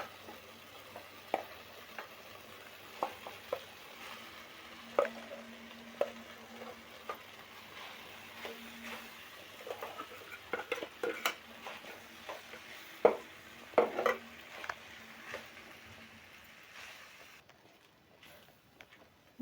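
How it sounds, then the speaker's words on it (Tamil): Pre-boiled veg noodles tossed and stirred in a hot pan, with soft scraping and light sizzle plus scattered utensil taps on the pan, close and fairly quiet, no talking. "நூடுல்ஸ் அதில் ஆட் பண்ணி நல்லா கிளறிக்கோங்க."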